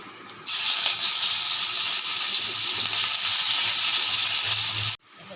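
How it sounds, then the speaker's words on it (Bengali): Chopped onion hits hot oil with dried chili and nigella seeds, bursting into a loud, steady, close sizzle that holds for about four and a half seconds before cutting off. "পেঁয়াজ কুচি করে রেখেছিলাম এটা দিয়ে দিচ্ছি"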